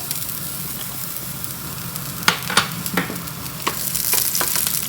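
Garlic sizzling and frying in a pan, with a steady hiss broken by sharp crackles and pops that grow busier toward the end, close up and with no talking.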